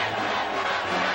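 A packed stadium crowd of Oregon fans roars before the 2015 Rose Bowl, a College Football Playoff game against Florida State, in a brief, dense wash of sustained cheering.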